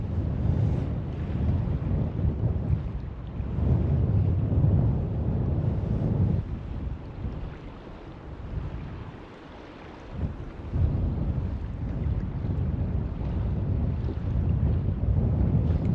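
Strong wind buffets the microphone on a cold South Carolina lake during a kayak tournament, a steady low roar with gusts and faint water movement, continuous and loud throughout.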